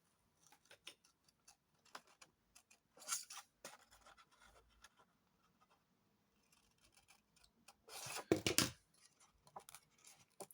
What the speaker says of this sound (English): you get your scissors and you cut out the triangles